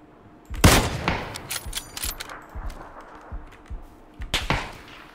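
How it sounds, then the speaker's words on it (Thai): Gunfire in the PUBG video game: a sharp loud shot followed by a series of scattered, fainter cracks and impacts at irregular intervals, with another burst of shots near the end. "ด้านขวายิงมาด้วย"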